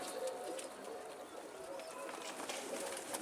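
Pigeons coo softly a few times at a distance over a steady hiss of background noise.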